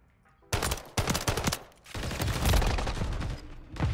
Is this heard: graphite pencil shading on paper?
no